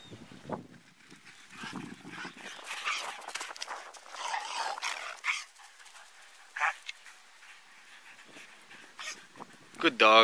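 Dogs pant and whimper on an outdoor walk, with breathy bursts and short whines close by while several people talk and call out over them.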